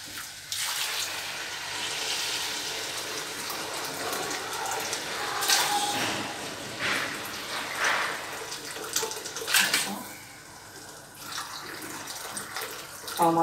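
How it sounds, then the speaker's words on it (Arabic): Water poured into a cooking pot, roughly a quarter litre going in for a chicken and rice dish, a steady broadband splashing and running stream that varies in intensity as it fills. "ربع زلايف ديال الماء"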